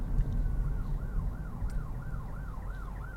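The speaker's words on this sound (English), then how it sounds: "Pausing for a second as the ambulance drives by." An ambulance siren wails in a steady, repeating up-and-down sweep as the vehicle drives past a five-way intersection, loud and close over a rumble of road traffic, with no voices.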